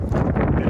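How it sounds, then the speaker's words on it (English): Gusty wind buffets an outdoor microphone beside a parked 2017 Freightliner M2 106 box truck, a steady low rumbling roar that fills the whole moment with no clear pauses. "Bit of a windy one here today, so bear with me."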